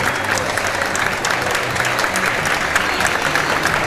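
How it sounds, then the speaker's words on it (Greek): Spectators clap at the Trikala city running race, which includes 5,000 m and 1,000 m events, in a steady, dense round of outdoor applause that holds for a few seconds. "Χειροκροτούμε όσο πιο δυνατά μπορούμε."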